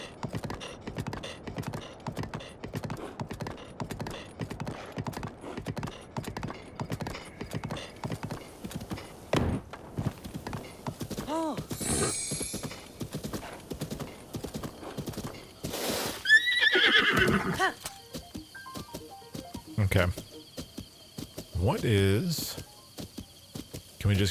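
Horse hooves clip-clop in a steady gallop rhythm through much of the stretch in Zelda: Breath of the Wild, with loud whinnies and neighs breaking in near the end, a voice talking intermittently over it.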